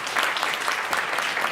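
A congregation applauds in praise at the close of a Korean church worship service, steady dense clapping filling the whole moment at moderate loudness with no voices over it.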